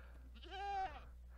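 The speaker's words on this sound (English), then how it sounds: "What was that? Oh, it's just the goats." A single goat bleat in a video game, one short, wavering nasal call of under half a second rising out of a quiet low hum.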